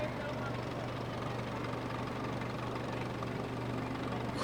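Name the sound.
tractor engine in fair parade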